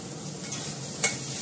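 Chow mein sizzling in a hot pan while being stirred, a steady close frying hiss with one brief scrape of the utensil.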